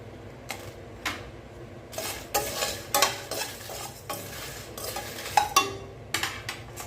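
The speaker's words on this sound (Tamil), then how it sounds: "இப்போ இதோட வத்த மிளகாய் சேர்த்துக்கலாம்" Dried red chillies roasting in a pan while being stirred, with repeated loud scraping strokes of a utensil over a light sizzle, close and rhythmic.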